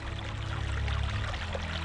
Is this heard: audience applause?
no